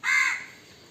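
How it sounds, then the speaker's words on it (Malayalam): A single loud, harsh crow caw rings out close by near a farm plot, then fades into quiet background. "കാക്ക കടന്ന് ഭയങ്കര കരച്ചിൽ."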